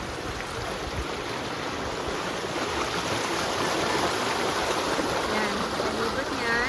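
A stream flows in a steady, broadband rush of water that continues unchanged from start to finish, fairly loud and close, in a rural setting beside rice fields.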